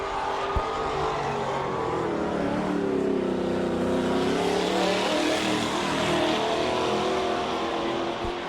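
A dirt-track sprint car runs a lap on a Pennsylvania speedway, its engine roaring steadily and loudly throughout, the pitch swelling and falling as it sweeps around, with no talk over it.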